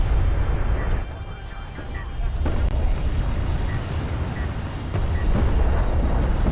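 Bombers are launched in a strategy video game, and deep rumbling explosions roll and boom heavily across the scene in a loud, continuous low roar.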